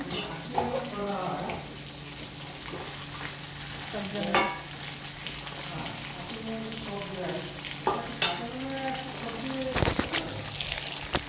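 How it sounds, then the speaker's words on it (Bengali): Chicken breast pieces frying for biryani give a steady low sizzle, interrupted by a few sharp utensil clanks and a brief burst of running water, with a voice murmuring at times. "এটা ফ্রাই হোক।"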